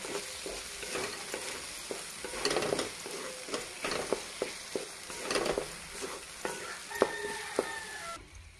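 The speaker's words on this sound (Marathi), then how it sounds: "ही थोडी लाल मिरची, चांगलं मिक्स करायचं।" An onion and tomato chutney with red chili being stirred in a pan, a spoon scraping in repeated clinks and strokes over a steady close sizzle, with no talking.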